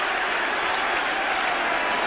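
A football crowd at a 1972 UEFA Cup semi-final, Spurs v AC Milan, applauds and cheers a Spurs goal in a dense, steady roar of clapping that stays loud throughout.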